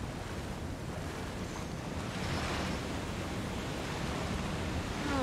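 Water waves wash steadily in the Plague Tale Requiem video game, a soft continuous surf-like rush with a windy hiss, fairly quiet and without speech.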